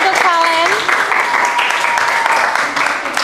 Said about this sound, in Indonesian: Tepuk tangan untuk Valen.